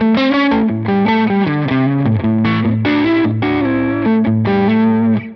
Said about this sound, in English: Let's just hear what this sounds like on these default settings.